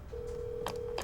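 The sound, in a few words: telephone noise from an unmuted phone line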